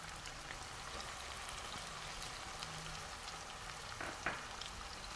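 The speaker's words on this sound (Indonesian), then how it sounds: "Kita tumis ya, sampai setengah matang juga ini." Minced meat and carrots sautéing in a pan, a soft continuous crackling sizzle at low level with a brief clink partway through.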